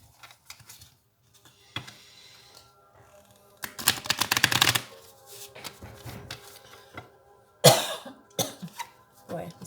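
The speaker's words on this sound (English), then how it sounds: "Boy, this incense is making me cough." Someone coughs in several hard, close bursts set off by burning incense, with quiet tapping and light clicks in between.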